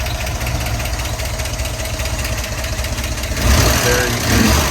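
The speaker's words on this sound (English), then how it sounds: "Runs really well, really strong, fires right up, holds a nice idle." A 1954 Ford F100 pickup's Y-block V8 idles steadily and close by, a constant low rumble that grows slightly louder and rougher near the end, with a voice talking over it.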